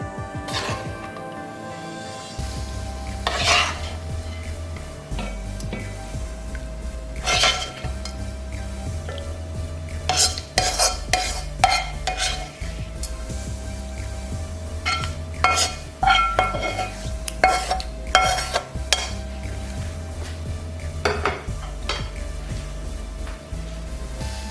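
Remaining beef added to a Hyderabadi beef dum biryani pot and spread out, with close clinks and scrapes of a spoon against the metal pot over a low steady hum.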